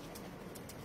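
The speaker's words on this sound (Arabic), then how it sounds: "شوف الحمام شباب" Pigeons cooing faintly at a distance, heard as a few soft, low coos over steady background noise.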